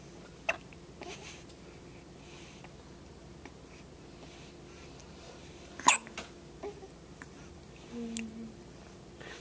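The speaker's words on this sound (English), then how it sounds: "I think these may be her first hiccups." A two-day-old baby hiccups a few times: short, soft, sharp catches spaced several seconds apart, one louder than the rest, in a quiet room.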